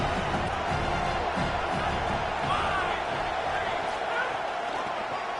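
A stadium crowd roars steadily in an NCAA college football video game between Alabama and Oregon, a loud, dense, unbroken wall of cheering and noise that lasts throughout.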